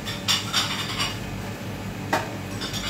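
A saucepan clatters on a kitchen counter during milk measuring for a fruit tart, with several sharp metallic knocks and clinks close by, spaced out over a few seconds.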